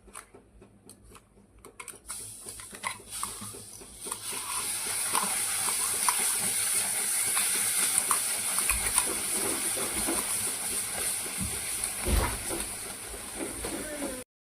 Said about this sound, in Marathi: आता यामध्ये मी जे आपण प्युरी करून ठेवलेली ना आंब्याची ती ऍड करायची।